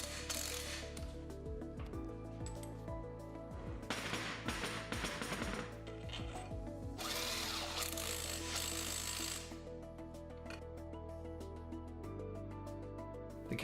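A power driver with a 14mm hex bit tightens brake caliper bolts, giving bursts of whirring and ratcheting with short pauses between the runs, close and fairly loud.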